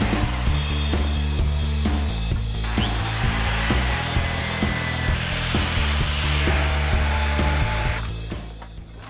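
An angle grinder making a clean cut through metal stock for a welded planter and flower vase, a loud, steady, close grinding whine with shifting tone that carries on without a break and eases off near the end.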